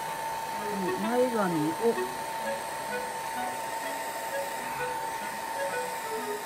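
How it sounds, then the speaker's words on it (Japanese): A hair dryer blows steadily on a doll's wig of non-heat-resistant synthetic hair, a constant close whir running the whole time beneath a woman's speech. "時間短縮ということでドライヤーで乾かしていきました"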